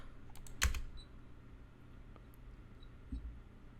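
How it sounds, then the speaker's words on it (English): Loud clacking computer keyboard typing in the background, a few quick bursts of keystrokes with a sharp cluster early on and another later, faint and distant in an otherwise quiet room. "He has a very loud keyboard."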